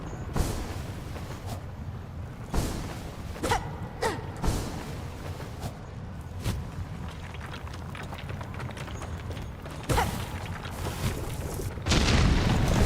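Explosions go off in the Silksong video game as a run of deep booms and thuds. Between them are scattered game sound effects, and no one speaks.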